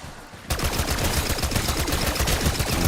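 A DM-10 firing full auto in Black Ops 6 starts abruptly after a brief lull, then keeps up a loud, rapid, unbroken stream of shots for the rest of the clip.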